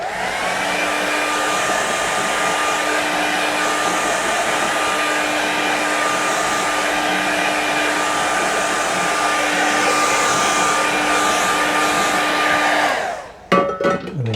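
A hair dryer blows on wet watercolour paint of a Scottish Highlands landscape, a loud, steady whirring roar held close for about thirteen seconds before switching off with a few brief clunks.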